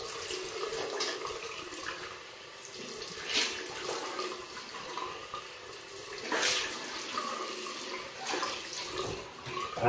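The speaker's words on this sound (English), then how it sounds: "I'll just rinse off." Running water rinses off after a shave with a razor and shaving cream, a steady close hiss of tap water with small splashing surges throughout, no talking.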